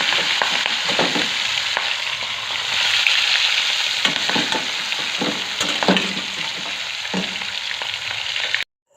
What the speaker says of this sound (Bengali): ভালোই গরম হয়ে গেছে তেল। এখন মাছটা ভেজে নেব।